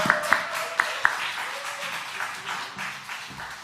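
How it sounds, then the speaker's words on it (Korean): Church congregation at a special Friday service applauding to welcome a visiting pastor; a few sharp claps at the start, then a fainter spread of clapping and murmuring voices in a large room. "우리 큰 박수와 함성으로 맞이하겠습니다"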